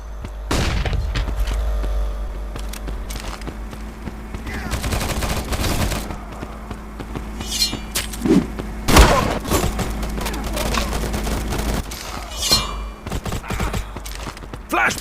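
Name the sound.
flashbang grenade and gunfire in Modern Ops video game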